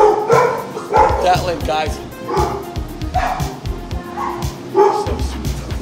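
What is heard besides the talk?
dogs barking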